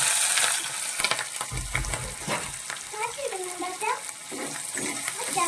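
Ginger, garlic and green chili sizzle in hot oil while being stirred, a soft steady frying hiss with scraping spoon strokes and a brief clatter as the pan is handled.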